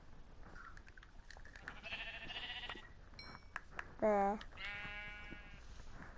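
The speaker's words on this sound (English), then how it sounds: "I'm gonna get some sheep because I see one." Blocky video-game sheep give a few loud, close bleats, with a strong one in the middle, alongside other game sounds while a person talks.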